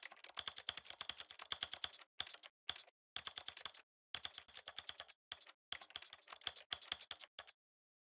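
A computer keyboard's keys are tapped in quick, close bursts of clicks separated by short silent pauses, crisp and isolated with no voices.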